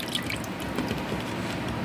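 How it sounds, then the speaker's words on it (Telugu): Curd mixed with water is churned by hand into buttermilk, producing a close, continuous sloshing and dripping liquid swirl with quick wet splashes, steady and fairly loud for the short stretch. "పెరుగు చిలుక్కుందాం."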